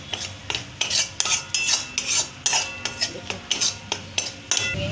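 Gram flour (besan) being roasted and stirred in a pan, rhythmic scraping strokes of a spoon against the metal, close and steady, with no talking.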